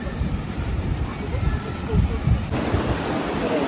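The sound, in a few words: sea waves and wind at the beach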